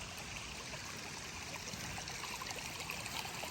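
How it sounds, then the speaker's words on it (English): Water pours from a pond outflow down a rock-bottomed spillway on the side of a dam, making a continuous, even rushing and trickling wash with no pauses and no voices. "Here is the outflow from the pond."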